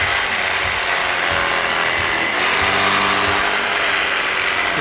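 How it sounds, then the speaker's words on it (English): Power grinder cutting steadily through a charcoal-roasted rotisserie chicken, a continuous loud whirring buzz with slight shifts in pitch and pressure throughout, close up and with no talking. "Just hear that grinder cutting away."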